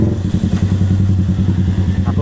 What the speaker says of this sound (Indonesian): ini bawa motor teman, jadi suaranya ada berisik banget, nggak kedengeran